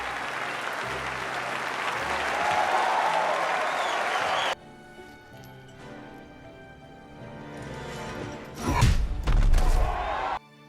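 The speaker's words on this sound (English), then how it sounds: "I'm clapping for you." Steady applause from many hands fills the first few seconds, then cuts off abruptly and gives way to softer thumps and a louder low rumbling burst near the end.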